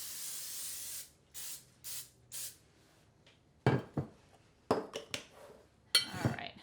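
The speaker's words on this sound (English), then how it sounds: "I do want to add just a little bit of cooking spray again so they come out really easy." Cooking spray is sprayed into a pan in four short hissing bursts, followed by clinks and clatter of kitchen utensils and cookware close by.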